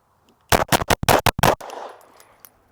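Glock 19 pistol fired at an outdoor range: six or seven sharp, loud shots in a fast, slightly uneven string, each cracking close by and trailing into a brief echo, with no voices.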